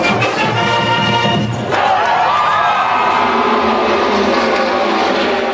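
Large crowd roaring at the Indianapolis 500 race weekend, a dense, loud wash of voices and cheers that shifts partway through with a rising whine-like tone, sustained without pause.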